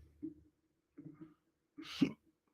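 A person burps: a few short, low throaty bursts with gaps between them, the last one the loudest and roughest, heard close up with no talking.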